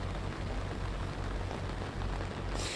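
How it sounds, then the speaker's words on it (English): Steady rain patters down on a tent, a dense continuous hiss of drops with no talking, holding at an even level throughout. "Yeah, Tammy Emerson, that rain is coming down as we speak."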